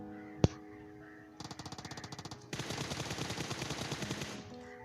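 Gunfire in a shooter video game fight in school apartments: one sharp shot, then a rapid burst of automatic fire, followed by louder, denser sustained firing.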